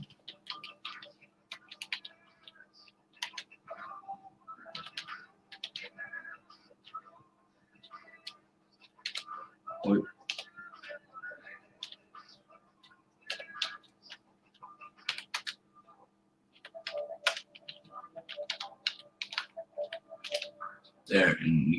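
Rapid clicks of typing on a computer keyboard in irregular bursts, fairly close, with someone talking intermittently over them and a low steady hum beneath.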